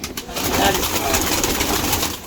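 Pigeons of an old high-flying breed coo continuously at close range, a dense steady murmur of several birds.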